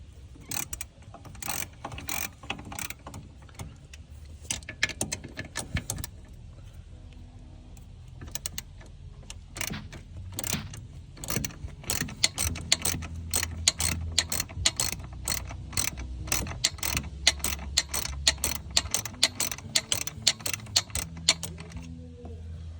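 A ratchet with an extension loosening brake booster nuts on an 80 Series Land Cruiser, rapid bursts of close clicking repeated again and again, with short pauses between turns.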